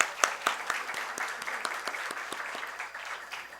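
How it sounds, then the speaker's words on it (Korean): A church congregation claps: a few sharp, distinct claps come first, then a light, uneven patter of applause that fades away over a few seconds, fairly quiet and with no speech. "박수도 좀 해드릴까요, 우리?"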